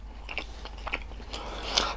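Close, crunchy bites and chewing of a vegetarian steak served with cheese fries, with several crisp bursts spread over two seconds and no talking.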